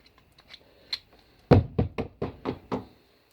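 Scraping and knocking while carbon deposits are dug out of a VW EGR valve: faint scratches at first, then six sharp, close, regular knocks with no talking.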